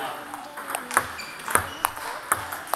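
A table tennis ball hit back and forth during a casual ping pong match between coffee-makers and an Olympic champion, sharp regular pings and bounces about every half second, with people talking throughout.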